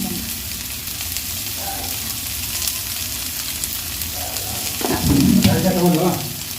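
Onions frying with salt in a home kitchen pan, a steady crackling sizzle with occasional stirring scrapes, growing louder near the end as the onions are tossed, no talking.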